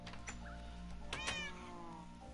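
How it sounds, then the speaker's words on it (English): Cat meowing in Minecraft, several short meows close together, with a rising tonal cry near the middle, fairly faint over a steady background hum. "I hear a cat."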